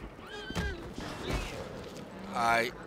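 An agitated horse in a western video game whinnies in two loud bursts, one early and a longer shrill neigh near the end, with people chatting over game noise in between.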